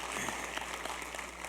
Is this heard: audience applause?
yes